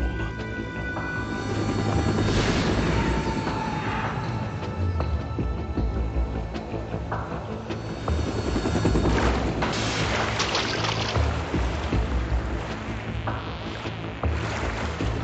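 A helicopter in Metal Gear Solid 2 approaches with a loud, sustained rotor roar and engine drone, swelling and rumbling over the whole stretch alongside a booming game soundtrack.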